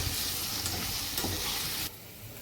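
Vegetables stirred and fried in a pan for veg biryani, a loud continuous sizzle with scraping strokes of the spoon, dropping abruptly quieter near the end.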